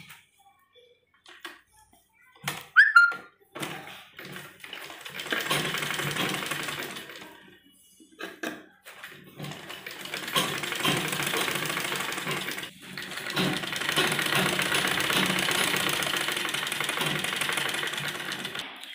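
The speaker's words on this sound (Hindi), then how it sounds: "और उसके बाद हम इस तरह से इसको फोल्ड करेंगे और यहाँ सिलाई लगाएंगे" A sewing machine stitches a child's kurti in bursts, its motor whirring in several runs of a few seconds each, with a few clicks and pauses between.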